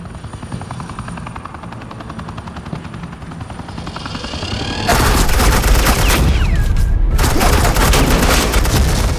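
Gunfire in the video game Batman: The Enemy Within, loud rapid bursts of suppressing fire over a droning helicopter, kicking in about halfway through with a brief pause before resuming.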